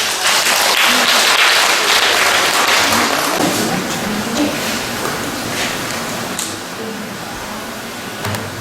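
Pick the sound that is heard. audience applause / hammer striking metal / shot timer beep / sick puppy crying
audience applause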